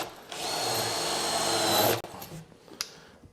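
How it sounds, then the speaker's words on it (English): A power drill countersinks a hole in wood for an Adirondack rocking chair build, one loud steady whirring burst of about two seconds, then quiet with a small clunk. "My drill. I'm first going to countersink."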